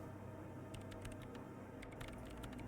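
Soft, irregular clicking of someone typing on a computer keyboard in the video game Disco Elysium, set against a steady electronic hum from the machine, faint and fairly distant.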